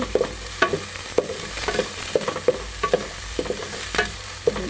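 Onion and ginger sizzling in a pan while being stir-fried for a tilapia and vegetable dish, with a steady frying hiss broken by repeated sharp scraping strokes of a spatula at a regular rhythm.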